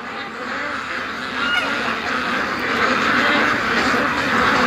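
A flock of ducks quacks continuously beside a lake, the chatter swelling slightly and mixed with honk-like calls throughout.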